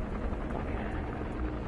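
Helicopter in the game Metal Gear Solid V: The Phantom Pain, a loud, continuous rotor thump and engine roar filling the short stretch with no talk.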